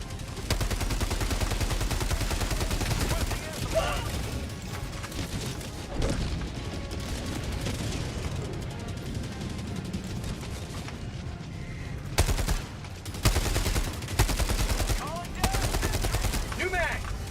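Rapid automatic gunfire in a first-person shooter video game, loud and close, with dense bursts and a few brief pauses, mechanical clatter between volleys and a voice talking over it.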